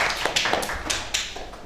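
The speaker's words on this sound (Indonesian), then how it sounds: "Tepuk tangan buat Bintang." A classroom of students claps for a classmate, a loose patter of overlapping hand claps at steady loudness with no talk over it.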